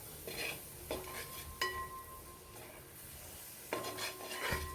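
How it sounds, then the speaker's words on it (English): Biryani ingredients with curd and mint are stirred and sautéed in a pan, a spoon scraping and clinking against the metal in intermittent strokes over a soft background sizzle, quiet and close. "So after adding curd, you should keep sauteing in this way"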